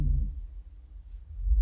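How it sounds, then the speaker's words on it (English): A Chinese alligator call pitched down three octaves: a deep, rumbling low drone with a throbbing pulse, ominous and murky, swelling at the start and end. "take the Chinese alligator and we now move it a couple of octaves lower?"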